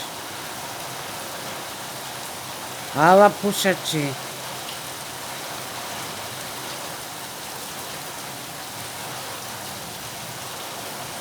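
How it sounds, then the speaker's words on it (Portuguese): Heavy rain pours down outdoors in southern Brazil, a steady, even hiss filling the whole stretch, with a brief voice speaking once partway through. "tá uma chuvarada aqui, ó, no sul"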